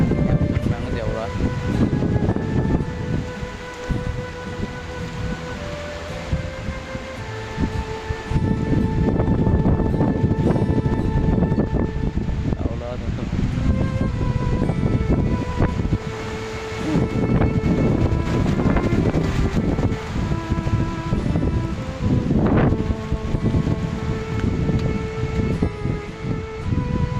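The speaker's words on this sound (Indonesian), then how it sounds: "anginnya kencang banget ya Allah" Strong wind blows steadily and loudly for the whole stretch, roaring and gusting, with a voice speaking over it at times.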